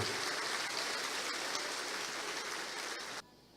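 A church congregation applauding together, a dense, steady wash of many clapping hands that carries on loudly for about three seconds before cutting off abruptly.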